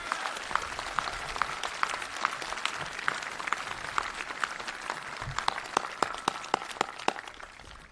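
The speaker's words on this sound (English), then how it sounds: "So please, a big round of applause for Derek Chen." Audience applause fills a high school graduation ceremony at Belmont High School as an award winner is honored. Sustained, moderately distant clapping from a crowd, with a few sharp individual claps standing out near the end.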